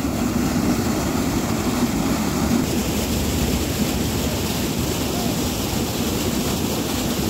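Water pours from a canal waterfall in Jhansi, a loud, constant broadband rush that holds steady throughout without voices.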